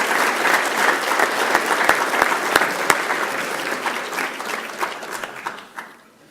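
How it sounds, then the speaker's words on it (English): Audience clapping at a graduate degree commencement after the presentation of degrees, a broad sustained patter of many hands with crisp individual claps popping through, gradually thinning and fading out at the end. "This is where you clap."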